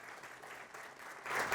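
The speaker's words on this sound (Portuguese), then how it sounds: "Uma salva de palmas, por gentileza." Conference attendees clap in a short, moderately distant round of applause that swells a little toward the end, with no voices over it.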